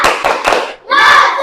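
A classroom of students performs a rhythmic spirit clap, several quick bursts of clapping in unison, a short pause, then a louder sustained round of patterned clapping close by.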